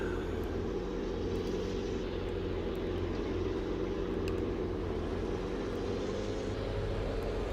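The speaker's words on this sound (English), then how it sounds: "Turn on the stump grinder." A stump grinder running in the video game Farming Simulator 19 gives a steady, unbroken low mechanical drone at moderate volume throughout.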